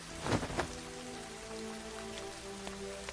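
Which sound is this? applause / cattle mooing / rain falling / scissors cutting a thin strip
rain falling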